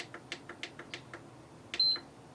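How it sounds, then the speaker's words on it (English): A repaired game console gives a single short, high electronic beep on power-up, coming after a run of dry, rapid clicks from the power button being pressed repeatedly. "Okay, we get a beep."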